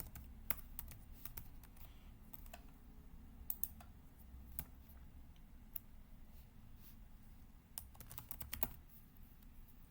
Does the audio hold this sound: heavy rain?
no